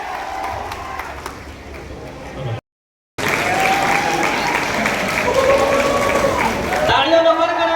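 A crowd at a public gathering for a tribal community event claps and murmurs steadily, with a voice speaking and some cheering over the applause.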